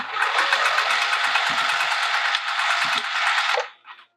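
A sewing machine stitches a bag in one fast, continuous rhythmic run of needle strokes, close and loud, stopping after about three and a half seconds with a couple of small clicks.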